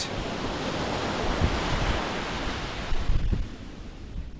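Sea waves at Dublagadi beach, a quiet coastal stretch backed by casuarina woods: a steady, loud wash of surf with wind rushing over the microphone, rising in a couple of swells and easing toward the end.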